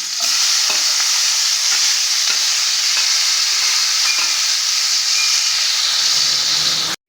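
Tomato and onion frying in a pan for a fish curry, a loud continuous sizzle and hiss with light stirring scrapes throughout, close up and alone.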